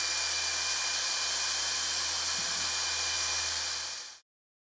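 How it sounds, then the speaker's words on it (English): An abrasive disc grinding a weld seam off round stainless steel, a steady loud whining hiss held evenly for about four seconds before cutting off abruptly. "Remove the weld seam with this. Make sure the disc is kept directly over the weld seam."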